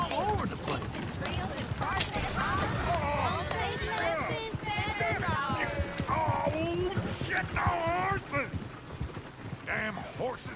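Rhythmic clip-clop of horse hooves from the video game Red Dead Redemption 2, running steadily under frequent talking voices and game dialogue throughout.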